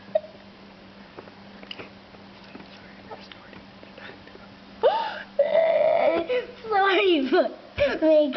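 A voice imitates a toy doll snoring in a play scene with a Barbie bed and bath folding house, giving a few loud, drawn-out wheezy snore sounds after a stretch of quiet.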